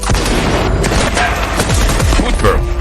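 An assault rifle, an early AK-47 prototype, is test-fired outdoors in rapid, dense bursts of sharp cracks and booms that run continuously and loudly throughout.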